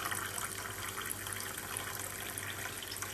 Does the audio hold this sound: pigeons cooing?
no